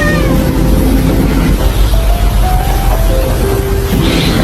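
A mother cat meows and grumbles repeatedly at her kitten, close and loud, her drawn-out calls set against a heavy, noisy background.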